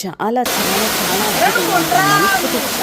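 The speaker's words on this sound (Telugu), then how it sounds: "పైనుంచి నీరు అలా జాలువారుతూ ఉంటే" A waterfall in Kakinada district rushes in a constant, loud roar, with a voice speaking briefly at the start and faint voices calling over the water.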